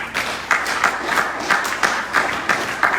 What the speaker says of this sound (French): Est-ce que tu peux acclamer pour la parole de Dieu?